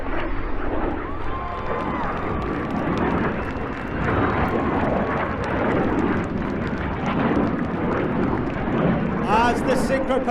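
RAF Red Arrows jets performing a flying display at the Clacton Airshow, with a continuous loud roar of jet engines throughout and a commentator talking over the noise.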